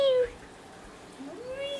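An old cat meows close by, first a short meow and then a longer rising one after a brief pause.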